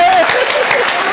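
Audience applause at a Hindi kavi sammelan poetry show, a steady dense wash of clapping lasting about a second, fairly loud and continuous with no talk over it.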